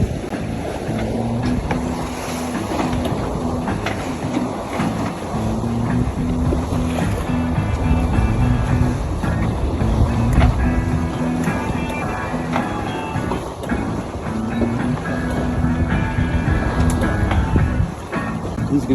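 A powerboat drones past at a distance in a harbor over wind and sloshing water, a steady engine hum that swells and fades slightly.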